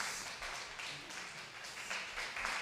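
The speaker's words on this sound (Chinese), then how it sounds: "我们拍手欢迎" Congregation at a Mandarin-language Presbyterian church Sunday service applauding to welcome a visiting family, steady dense clapping from many hands, moderately loud and continuous throughout without pause.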